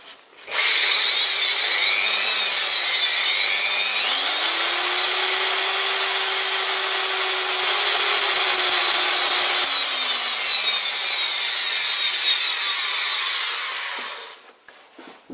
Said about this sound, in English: I should polish the bore of the taper. It is pretty rough. This is a 540 grit sandpaper.